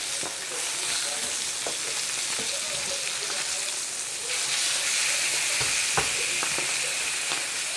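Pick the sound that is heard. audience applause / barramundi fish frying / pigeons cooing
barramundi fish frying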